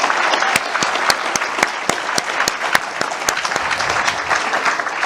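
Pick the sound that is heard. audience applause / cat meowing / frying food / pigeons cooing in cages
audience applause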